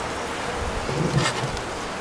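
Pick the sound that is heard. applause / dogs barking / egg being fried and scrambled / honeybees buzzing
honeybees buzzing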